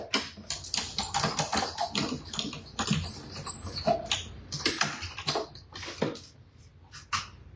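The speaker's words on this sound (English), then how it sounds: "So we're going to cut that out using our die cut machine." A die cut machine cuts a honey pot shape from yellow card with rapid, irregular clicking and crunching taps, close by, with no talk.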